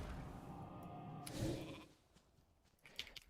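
A polymorph spell in World of Warcraft turns a target into a sheep, giving a brief, faint bleat mixed with combat sound effects and a soft thud.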